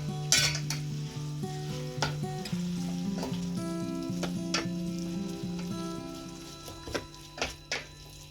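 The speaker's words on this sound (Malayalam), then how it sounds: "ചിക്കൻ ഇട്ടിട്ട് നന്നായിട്ട് ഒന്ന് ഇളക്കുക" Chicken for chicken chukka sizzles in a masala-coated pan while a spoon stirs and scrapes it, steady frying hiss with repeated metal clinks, close up and without speech.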